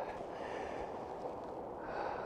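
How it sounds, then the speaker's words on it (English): A basset hound noses through snow on a windy outdoor walk, giving close, steady snuffling and short snorts against a constant blustery background. "Happy basset sniffing something."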